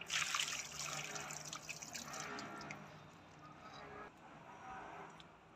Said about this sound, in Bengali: টবের মাটিতে জল জমা হয়ে গেছে, ড্রেনের লিকেজটা ভালো হয়নি, তার জন্য এটা একটু ফেলে দেবো